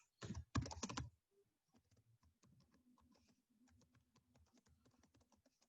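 Quick bursts of typing on a computer keyboard, a couple of loud clustered strikes first, then a quieter run of light, irregular key taps, close and alone.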